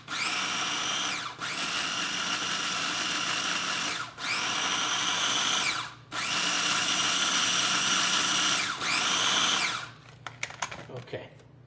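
Food processor blending olive tapenade of olives and olive oil, a loud close whirring motor run in four long bursts with brief pauses between, ending in a few rattling clicks.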